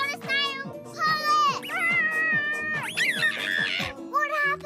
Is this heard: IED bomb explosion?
no